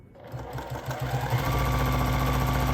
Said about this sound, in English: now I begin my free motion quilting process